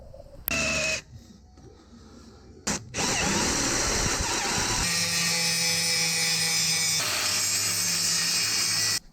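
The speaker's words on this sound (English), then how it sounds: "So we'll drill all that now, clean it all up and weld it in" A power drill whines loudly through steel plate in sustained bursts, starting and stopping, with a steady high-pitched grinding tone that runs for several seconds at a time.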